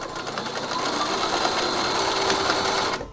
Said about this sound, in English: stitch the center of your ribbon down just in this little section